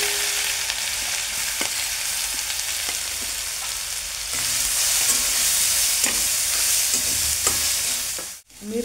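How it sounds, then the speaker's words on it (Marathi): Cumin seeds and ginger-garlic-cumin paste fry in hot oil in a pan. The sizzle is steady and close, swells louder partway through, is broken by occasional stirring taps, and cuts off briefly near the end. "तेल गरम झाले, जिरे टाकून घ्यायचे अगोदर अर्धा चमचा। आलं लसूण जिरे पेस्ट,"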